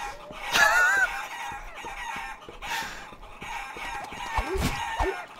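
Video game chickens in Guacamelee: a rooster crows and hens cluck in several bursts, clear and close, with no talking.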